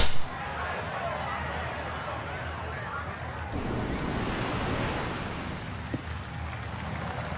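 Wind and sea surf at Pebble Beach Golf Links in the EA Sports PGA Tour game on PS5, a steady broadband rush of breaking waves and gusting wind that swells slightly midway and continues alone without talk.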